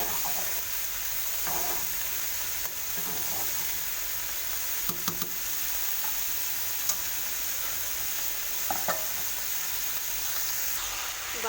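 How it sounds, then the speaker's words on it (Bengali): Cabbage and other vegetables fry in a pan for khichuri, giving a steady hiss and sizzle with occasional scraping stirs close by. "ভাজা হতে থাক, আমি কপিগুলো যে ভেজেছি সেগুলো তুলে দেবো।"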